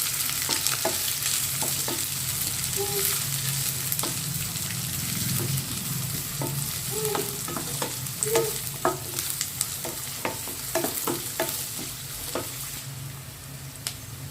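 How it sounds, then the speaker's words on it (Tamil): Chopped shallots, onion and curry leaves sauté in a pan for a Tamil kara kulambu. A steady frying sizzle runs throughout under frequent scraping and clanking stirs of a spoon against the pan, with no one talking. "இப்போ இந்த வெங்காயத்தை நல்லா வதக்கி விட்டுக்கலாம்."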